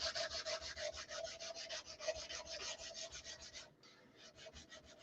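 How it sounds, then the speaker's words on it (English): A knife's full-tang handle is hand-sanded with 220-grit sandpaper to smooth out file marks, giving steady rapid back-and-forth rubbing strokes, close and clear, with a brief pause near the end before the strokes resume. "this is obviously it's a 220 grit, so I'm literally just smoothing out my file marks."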